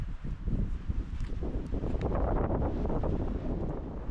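Strong, continuous gusting wind roars and buffets the microphone at a snowy winter campsite, loud and rumbling throughout with no voices.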